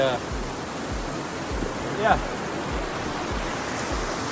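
A waterfall on the Isle of Skye in Scotland gives a constant broadband rush of falling water close by, mixed with wind buffeting and footsteps, and a voice briefly speaks over it.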